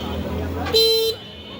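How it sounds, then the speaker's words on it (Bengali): A car horn sounds in Bangladeshi street traffic near the Jinjira bus stand, one steady sustained honk lasting under half a second, loud and close over a constant background of traffic rumble and babble. "ঠিকই যে হর্ন বাজাইতেছে, তো হর্ন বাজাচ্ছে।"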